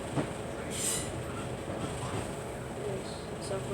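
A South West Trains service rolls near Clapham Junction, giving a continuous low rumble with a few brief higher squeaks and rattles, fairly steady throughout.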